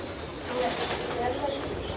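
Pigeons kept by a fancier in Pakistan coo and flap their wings close by, short soft bursts of cooing and fluttering over a background murmur.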